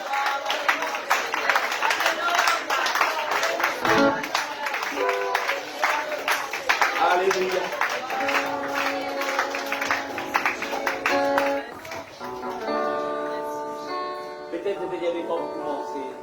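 A church congregation clapping and cheering, rhythmic claps and crowd noise filling the room for about eleven seconds before tapering into a quieter passage with sustained tones and voices.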